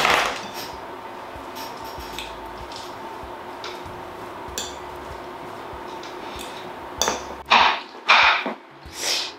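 Vegan mince being mixed in a bowl, with faint ticking and clinking through a quiet stretch, then a few louder scraping, clattering strokes near the end.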